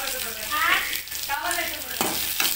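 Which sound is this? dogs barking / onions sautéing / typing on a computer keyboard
onions sautéing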